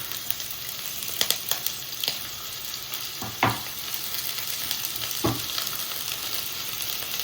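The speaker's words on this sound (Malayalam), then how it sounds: "അരിഞ്ഞു വെച്ചാൽ അടുത്ത ഒരു ഉള്ളിയും കൂടെ ഒന്ന് വഴറ്റി നമുക്ക് എടുക്കാം" Chopped onions sauté in oil over a low flame, giving a continuous sizzle broken by a few clanks and scrapes of a stirring spoon against the pan.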